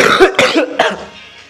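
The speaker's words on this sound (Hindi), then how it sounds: "खांसी हो जाती है मुझे." A man gives a few sharp, close coughs in quick succession, three bursts that trail off into a quiet throat sound, loud and alone.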